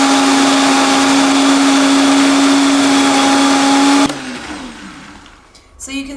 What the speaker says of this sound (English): Let's get it in the blender.